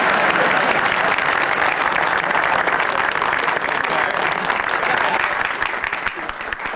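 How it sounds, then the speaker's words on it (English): A studio audience at a meeting claps in sustained, dense applause for Herbie Jackson, the sound staying loud and steady throughout before thinning slightly near the end. "Herbie Jackson deserves another big round of applause"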